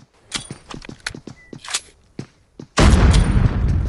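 Grenade blast in the mobile battle game ScarFall 2.0: a sudden loud, sustained burst of broadband noise arrives near the end, after a run of sharp, scattered gunshot-like cracks and footsteps.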